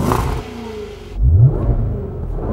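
A Range Rover Velar SV Autobiography with a 550 hp engine and upgraded sports exhaust revs once, rising from a low idle rumble into a loud throaty climb before settling back, heard close with no talk.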